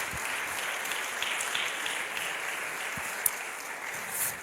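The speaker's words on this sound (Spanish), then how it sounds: "Dar un aplauso a Cristo, un aplauso a Jesús." Sustained congregational applause rolls through a church sermon, an even, crowded patter of many hands with a sharp single clap standing out near the end.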